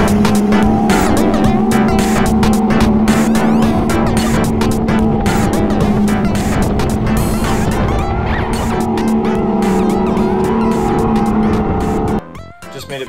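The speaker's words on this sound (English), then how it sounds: "I made my way over to Deck 18 to go ride the go-karts" Go-karts race around a track on deck 18 of the Norwegian Prima cruise ship, engines droning steadily and loud with a sustained hum for about twelve seconds before the noise abruptly drops away near the end.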